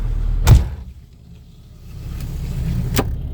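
The door of a 1991 Ford Festiva slams shut with one loud, close thud, and a quieter whir follows as the motorized seatbelt moves, ending in a faint click.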